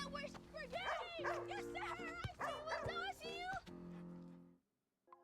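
A dog barks and yips in a rapid string of sharp calls, with a person talking over and between the barks, before the sound cuts off abruptly.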